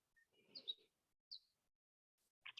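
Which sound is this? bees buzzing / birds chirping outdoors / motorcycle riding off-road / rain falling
birds chirping outdoors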